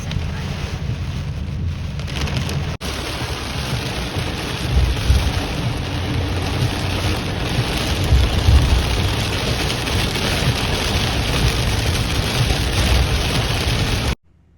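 Steady rain falls at a Lake Ontario RV campground, producing a dense, constant hiss with a low rumbling undertone that stays loud and even before cutting off abruptly at the end.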